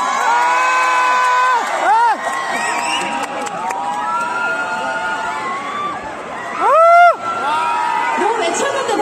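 Concert crowd at a university anniversary festival in Korea cheering, whooping and shouting loudly and continuously, with a big surge of screams near the end and a voice speaking over the noise.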